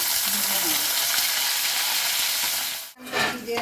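Capsicum frying in ghee gives a steady, close sizzle that hisses for about three seconds, then briefly cuts out before crackling resumes.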